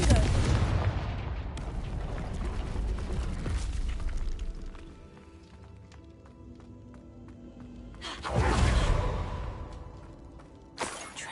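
Confringo fire spell explosions in Hogwarts Legacy, two loud booming blasts with a whooshing burst, the first at the start and another near the end, separated by quieter ambience and a short thump at the close.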